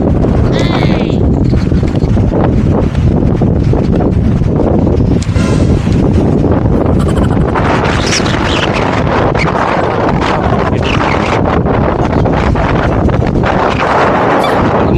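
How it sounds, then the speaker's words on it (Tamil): Strong wind on an elevated tourist lookout at Ramakkalmedu on the Tamil Nadu–Kerala border buffets the microphone in a constant loud, rumbling roar that never lets up. "காற்று பயங்கரமா இருக்கு."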